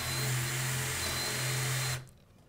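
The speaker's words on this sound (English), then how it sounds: "we would get this power drill" A battery-powered power drill motor whirs steadily and loud for about two seconds, then cuts out abruptly into near silence.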